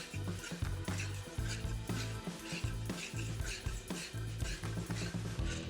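Sugar frying in a pan over a low flame for rava halwa, a steady crackling sizzle with rhythmic stirring scrapes throughout, close and fairly quiet.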